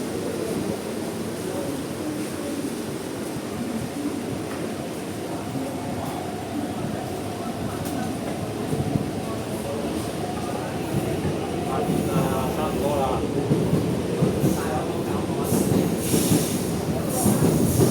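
A metro train pulls away from a platform with platform gates, producing a continuous rumble with wheel squeal and rattling that builds gradually, heard close along with station ambience and some voices.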